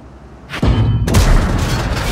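In the World of Tanks video game, a tank cannon fires at an IS tank. Two heavy booms land about half a second apart, the second louder and followed by a rumbling, crackling tail.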